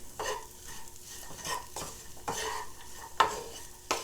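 Diced onion and minced garlic stirred through Impossible meat in a hot pan, a soft sizzle under repeated scraping strokes of the spoon, close and fairly quiet with a few sharper clicks against the pan.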